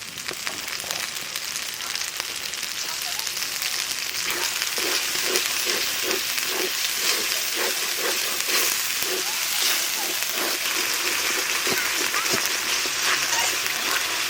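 Ground cumin and coriander paste fries in hot oil in a pan, a loud continuous sizzle with crackling spatter and a few soft stirring scrapes, close up.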